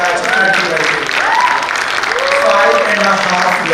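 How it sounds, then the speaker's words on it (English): A hall audience claps steadily for the 2020 medical graduating batch at a formal college event, loud and sustained, with cheering voices and faint chatter mixed into the applause. "can we have a round of applause for the batch of 2020?"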